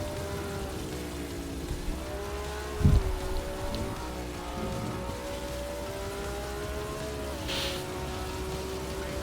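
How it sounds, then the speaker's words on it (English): Rain begins to fall during a race in the Formula Legends video game, a steady wash of rain noise over a droning engine tone, with one brief thump near the start. "It's starting to rain."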